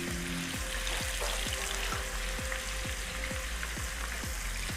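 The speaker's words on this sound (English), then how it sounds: "You're going to add in your onions and stir it around for about 30-60 seconds." Onions sizzle loudly in hot oil for carrot jollof spaghetti, a constant close crackle with regular soft ticks from stirring and no voices.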